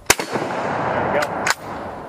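A 7.35 Carcano rifle fires one sharp, loud shot followed by a rolling echo, with a second crack around a second and a half later.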